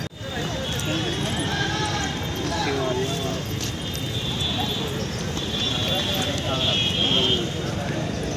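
Horses at the Sonpur cattle fair in Bihar, with hooves clopping and shuffling amid a steady, busy crowd din and voices throughout, continuous and fairly close.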